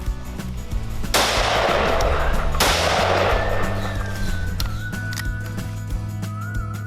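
An upgraded homemade weapon fires two loud shots, each a sharp crack followed by a long echoing decay, with a background hum and faint tonal whines after the second shot.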